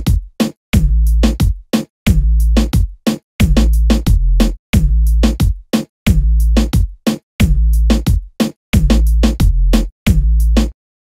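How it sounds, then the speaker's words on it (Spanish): A punchy reggaeton bass line made in FL Studio plays with a drum beat, repeating in short rhythmic phrases with brief gaps between them, loud and heavy throughout. "Y con un poquito de ritmo de batería suena así."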